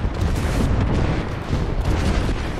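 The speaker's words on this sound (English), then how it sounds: "Get down, airstrike!" Airstrike explosions thunder in the video game Apex Legends, a dense, continuous barrage of heavy booms rolling together loudly with no pauses.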